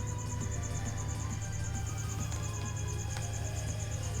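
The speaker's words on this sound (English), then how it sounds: "The crickets are chirping." Crickets kept in an indoor pen chirp in a steady, continuous high trill with a rapid, even pulse, fairly close and loud over a low background hum, with no talking.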